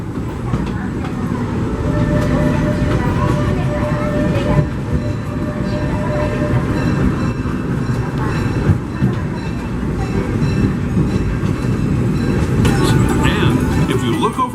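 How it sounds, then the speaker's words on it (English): Disneyland Railroad train ride heard from aboard, a continuous loud rumble of the rolling cars with clacking wheels, while a narrator speaks over it. "Thanks for joining us on the Disneyland Railroad."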